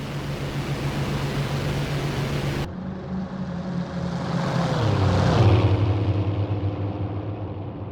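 Fighter aircraft at about 2000 feet flying overhead, a steady engine roar that swells and shifts pitch as it passes, with a continuous broadband rush.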